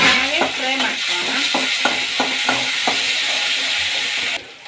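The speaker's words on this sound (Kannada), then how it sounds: "ಈಗ ಕೊತ್ತಂಬರಿ ಸೊಪ್ಪು ಕೂಡ ಹಾಕ್ಕೊಳ್ಳೋಣ. ಚೆನ್ನಾಗಿ ಫ್ರೈ ಮಾಡ್ಕೊಳ್ಳೋಣ." Fresh coriander leaves fry in a pan with a light sizzle, while a spatula scrapes and stirs in a steady run of evenly spaced strokes that ends abruptly.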